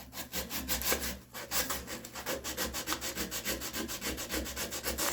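Hand sanding a wooden spice rack piece with sandpaper, a quick run of rhythmic rasping strokes back and forth, close and clear with no voices.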